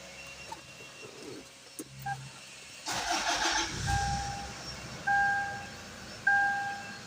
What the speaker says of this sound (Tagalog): Magpa-start tayo ng makina.